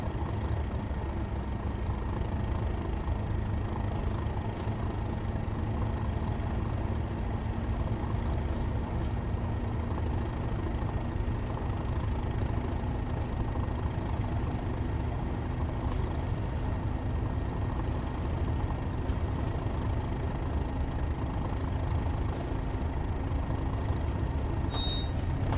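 A train in Train Sim World 5 on the Tees Valley Line hums along with a steady, droning engine and rumble, unchanging and continuous, with a faint tonal whine running underneath.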